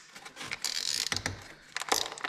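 A plastic tie strap ratchets tight around a bundle of hydraulic hoses wrapped in plastic hose wrap, giving two bursts of quick zipping clicks at close range.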